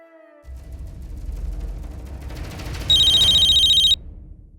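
A telephone rings late at night in a quiet room, a bright electronic ringtone bursting in for about a second after low background rumble and a few faint tones.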